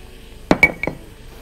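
A spoon stirs black pepper, salt, minced garlic, paprika and oil together in a bowl, giving three or four quick, bright clinks of metal against the dish, close and isolated.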